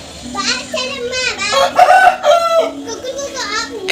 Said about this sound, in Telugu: మా చిట్టు తల్లి పాటలకి కోళ్ళు కూడా సపోర్ట్ చేస్తున్నాయి.